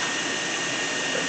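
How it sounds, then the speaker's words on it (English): Tap water runs steadily over a sliced tomato, a brief, even rushing splash heard close with no pauses. "We will rinse that off"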